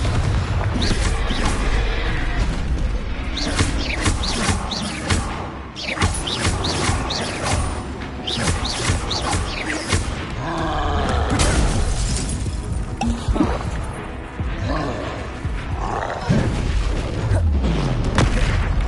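Repeated blasting-spell explosions in the Hogwarts Legacy video game boom and crackle in rapid succession, loud and dense amid other combat spell effects.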